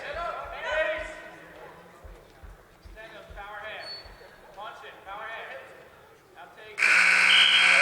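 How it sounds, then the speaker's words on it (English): A loud, sustained buzzer sounds at the close of the first round of a high school varsity wrestling match, cutting in abruptly after a stretch of commentary and gym noise and holding steady to the end. "And there's the buzzer for the end of the first round."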